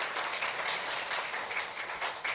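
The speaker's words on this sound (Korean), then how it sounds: "큰 박수 부탁드립니다" Steady applause from a seated audience at an agricultural and rural-development forum in Korea, welcoming officials being introduced; broad, even, moderately loud clapping sustained throughout without voices on top.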